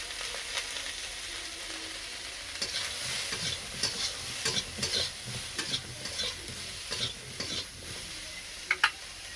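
Cauliflower florets fry with salt and turmeric in a pan, giving a steady hiss of oil with repeated scraping stirs and soft clinks from a spatula. The clinks grow sharper toward the end. No one speaks.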